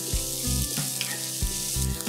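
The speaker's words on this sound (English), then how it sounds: "I'm going to heat a tablespoon of oil. Once the oil is hot, I'm going to add 1 onion finely chopped." Finely chopped onion hitting a tablespoon of hot oil, a steady loud sizzle and crackle of frying close by, with soft stirring scrapes repeating through it, no speech.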